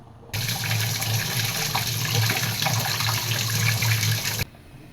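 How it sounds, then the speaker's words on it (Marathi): Two medium beetroots rinsed under a running kitchen tap, a steady close gush of water splashing into a sink for about four seconds, starting and stopping abruptly. "पहिले आपण त्यांना स्वच्छ असे धुवून घेऊयात"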